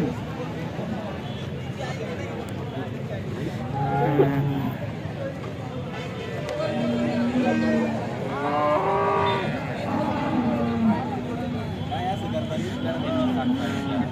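HF dairy cows mooing at a busy cattle market, several long low calls repeating through the scene at moderate distance, with people talking and general crowd noise underneath.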